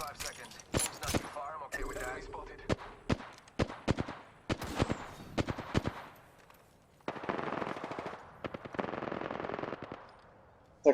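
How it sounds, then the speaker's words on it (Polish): Automatic weapon fire from Apex Legends gameplay, with rapid bursts and single sharp shots scattered over several seconds, some louder and nearer, others distant, with a sustained crackling fusillade toward the end. "na razie to się strzelają tam między sobą"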